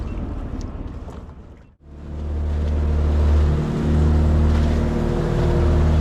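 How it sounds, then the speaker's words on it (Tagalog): A loud, steady motorboat engine drone with strong low harmonics from a small fishing outrigger boat, briefly dipping near the start, then swelling and holding as the engine throttles up. "Bangka na sinagkan namin"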